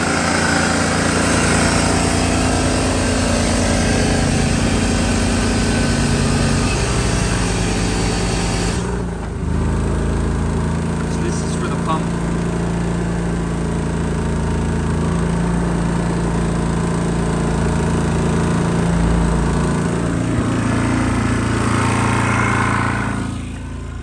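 A small portable generator runs steadily up close to the exhaust with a constant droning hum and rattle, briefly dipping in level before continuing.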